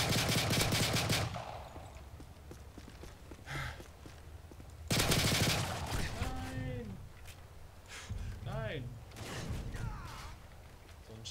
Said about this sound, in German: Ich will mal in die Luft schießen.